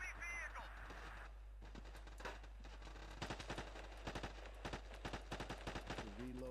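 Gunfire in the Battlefield 2 PC game, with scattered single shots early and then rapid bursts of automatic fire close by, along with game effects and some talk.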